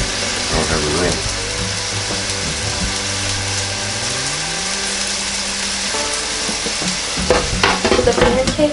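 Pancakes and sausages sizzle on a NuWave Medley XL electric skillet, a dense continuous frying hiss with a humming tone that slides in pitch, and a burst of clattering near the end.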